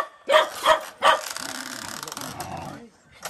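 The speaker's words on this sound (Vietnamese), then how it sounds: "Chó này sao không thả nó đi đây?" A dog tied up around a rural house barks three quick times, then whimpers and growls more faintly under people talking.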